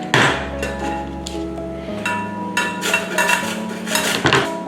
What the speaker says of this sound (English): today we're going to grate them into the bowl